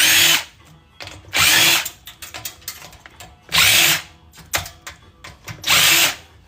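Power drill backing screws out of an old hard drive during electronics scrapping, four loud whirring bursts spaced about two seconds apart, with quieter clicks and handling noises between them.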